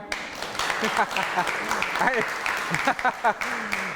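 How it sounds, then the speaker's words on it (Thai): Scattered audience applause at a Thai agricultural talk show taping, moderate and steady for a few seconds, mixed with voices talking over it. "น่าเอาปรบมือให้หน่อย"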